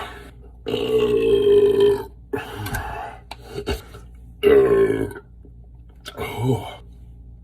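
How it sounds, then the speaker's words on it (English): A man lets out two long, loud, voiced burps close to the mic after drinking a cheap, refreshing drink, with short quiet gaps and a smaller gulping sound between them. "Hopefully that'll turn to gas so I can belch it up here."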